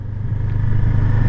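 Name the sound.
Rieju Aventura 500 motorcycle engine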